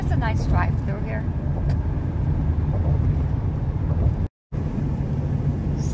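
A car cruises along a desert highway through Idaho, its steady road and engine rumble filling the cabin with a constant, loud drone and a brief dropout near the end.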